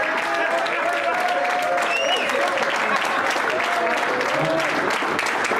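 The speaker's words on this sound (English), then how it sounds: "the MC doesn't normally get a big round of applause in evenings like this" Warm, sustained applause for the MC from the audience at the CGL Awards 2021 evening, loud and continuous with a few voices calling out over the clapping.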